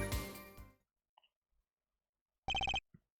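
A telephone in Apollo Justice: Ace Attorney gives a short, sharp burst of rapid electronic ringing after a near-silent pause, following a fading musical passage.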